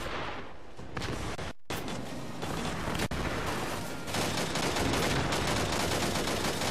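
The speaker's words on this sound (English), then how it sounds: "Missiles are coming for me." Dense rattling gunfire and incoming missile fire in the space combat video game Angels Fall First, loud and continuous with one brief gap and a slight rise toward the end.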